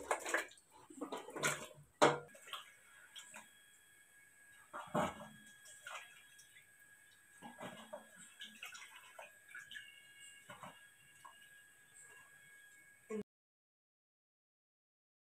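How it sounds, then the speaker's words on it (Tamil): Peeled apples are washed by hand in water, giving close, irregular splashes, sloshes and drips that are louder at first and then softer and sparser before stopping abruptly. "இப்போ ஆப்பிள் வாஷ் பண்ணிக்கலாம்."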